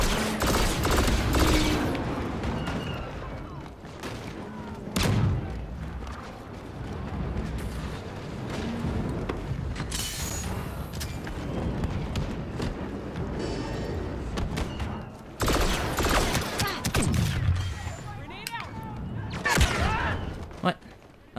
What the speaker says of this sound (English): Artillery, fire away